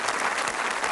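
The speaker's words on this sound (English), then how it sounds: "Give a nice round of applause." Studio audience applause on the 1988 game show Strike it Lucky, a brief, loud, steady wash of many clapping hands with no talk.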